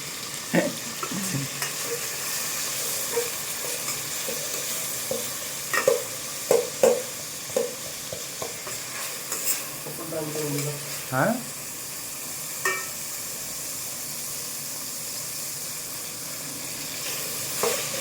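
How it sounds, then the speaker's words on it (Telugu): Onions fry for chicken curry in a pan, a continuous soft sizzle broken by scraping, clinking stirs of a spoon against the pan, close and fairly quiet, with irregular stirring knocks throughout. "ఉల్లిపాయలు బ్రౌన్ కలర్ వచ్చేంత వరకు మనం దాన్ని కలుపుకుంటూ ఉండాలి."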